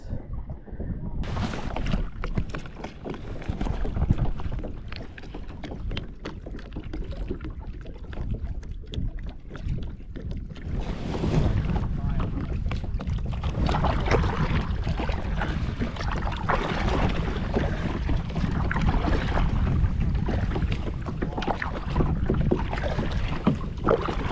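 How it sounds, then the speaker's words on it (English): A kayak paddles across open water in Everglades National Park, steady splashing strokes up close mixed with gusty wind buffeting the microphone, continuous for the whole stretch with no clear talking. "at the minimum, we'll get some kayaking in"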